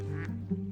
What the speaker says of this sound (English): Oh my gosh, the ducks are still at the pond.